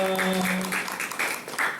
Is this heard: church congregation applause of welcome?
yes